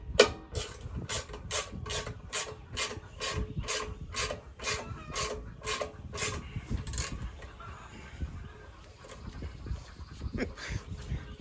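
A metal bolt is forced into a threaded hole at an angle, making a rapid run of sharp ratcheting clicks that fade into softer grinding and scraping, close and fairly quiet.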